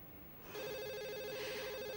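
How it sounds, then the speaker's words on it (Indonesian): A telephone starts ringing in a quiet room, a steady electronic trilling warble that begins abruptly and continues without pause, moderately loud and near. "Ada telepon."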